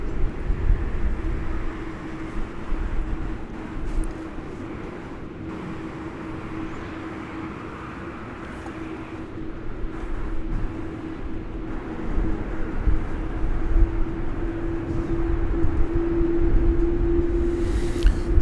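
A Boeing 777 and an ABX Air 767 taxiing at DFW airport, a steady low jet engine rumble with a sustained whine that grows louder toward the end, heard from a distance without talk.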